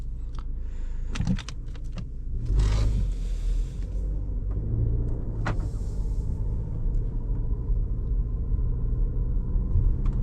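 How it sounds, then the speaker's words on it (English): A 2024 Volkswagen Tiguan S front-wheel-drive SUV is heard from inside the cabin as it sets off, with a steady low road rumble and engine drone, a few sharp clicks and thumps early on, and no talking. "So let's hop in, take her for a little drive, see how it goes."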